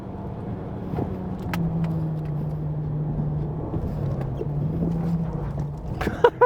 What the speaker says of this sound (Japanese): さあ続いてレックの NB ロードスターです。 行ってみたいと思います。